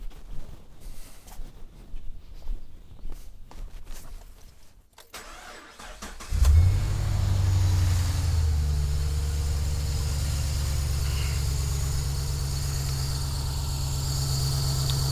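Scattered rustling and clicks, then a 2012 Chevrolet Caprice PPV 6.0L engine cranks and catches with a roar before settling into a steady, low idle that continues to the end.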